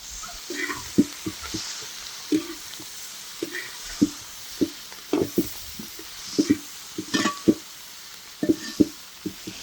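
Onion, coconut, green chilli and spices sauté in a pan, a soft continuous sizzle broken by frequent close spatula scrapes and taps in an irregular rhythm.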